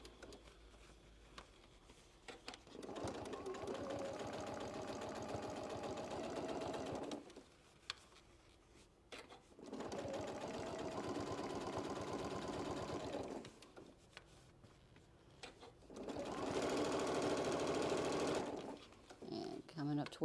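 A sewing machine stitches a fabric bucket hat in three steady bursts of rapid mechanical whirring, separated by pauses, close and fairly quiet, with speech alongside.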